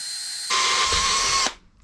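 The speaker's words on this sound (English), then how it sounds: "centre punched it, lined the two bits up in the vise, gonna drill it now" An electric drill bores through metal parts clamped together in a vise, giving one brief, loud, high-pitched whirring burst that stops abruptly after about a second.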